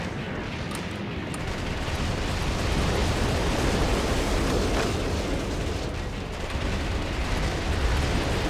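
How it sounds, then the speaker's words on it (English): Grenade launcher blasts from the video game Metal Wolf Chaos XD form a dense, continuous roar of explosions, loud and steady throughout with no clear gaps or voices. "I like the grenade launcher a lot better."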